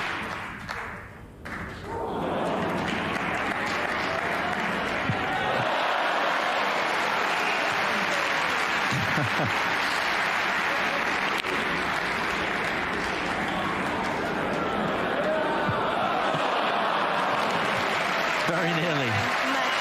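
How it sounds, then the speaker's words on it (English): A snooker crowd at the German Masters roars and applauds loudly and continuously as the deciding frame ends, a dense sustained wall of cheering and clapping that swells after a brief quieter start. "a giant roar from the crowd"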